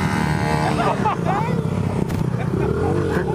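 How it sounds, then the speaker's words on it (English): A motorcycle does circle burnouts in a video game, its engine droning and revving steadily under loud, excited talk from several people. "Oh, I'm doing circle burnouts."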